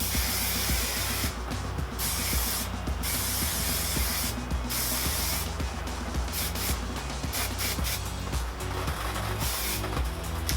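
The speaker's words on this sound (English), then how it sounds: "the last step is hairspray. So I'm using my Moroccan Oil Luminous Hairspray Medium Finish" Moroccanoil Luminous Hairspray Medium Finish sprayed from a can onto styled hair, a series of close, loud hissing bursts of varying length with short gaps, over a steady background hum.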